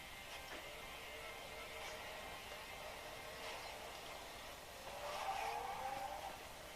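A car racing game plays on an Amazon Kindle Fire HDX 8.9 tablet, giving off a faint, steady engine drone. A swelling tire squeal near the end sounds soft and distant.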